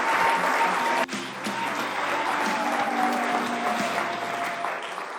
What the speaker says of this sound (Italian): Facciamo un applauso ai nonni.